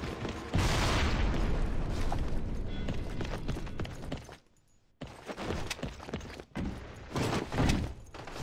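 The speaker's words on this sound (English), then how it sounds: "Watch it! Grenade!" Loud, sustained blast from a grenade going off in the shooter game Crossfire X, with a dense booming roar that drops out briefly before chaotic combat noise and thuds resume.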